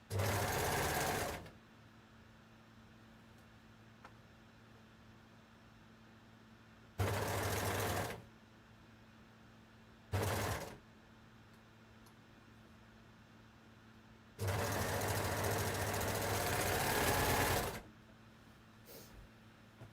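Sewing machine stitching the darts and sleeve of a Kielo wrap dress in four bursts of running, two long and two short, loud and alone over a quiet room hum.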